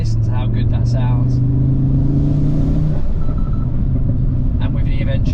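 An Audi RS3 8V2 with an RS Sports exhaust and particulate filter rumbles loudly and steadily, its tone rising through the first three seconds before settling into a deep idle, with brief bits of voice near the start and end.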